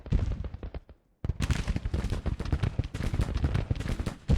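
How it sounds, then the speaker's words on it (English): Artillery fire in a Civil War video game: a quick, dense series of booming shots and reports, briefly pausing before a sustained rapid volley of overlapping blasts. "That artillery doing its thing."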